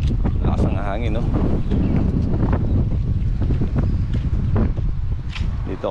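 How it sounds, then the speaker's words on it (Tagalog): Strong gusting wind buffets the microphone outdoors in Dubai ahead of rain, a continuous loud roar with people talking underneath. "Lakas ang hangin, no? Parang babagyo."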